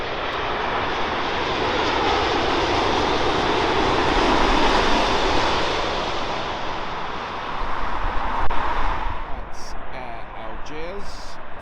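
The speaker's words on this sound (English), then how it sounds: "Saudi's Dreamliner 787 coming in from Jeddah." A Saudi Boeing 787 Dreamliner airliner approaches to land, its engines a broad steady roar that swells and then fades as it passes, with a voice speaking over it.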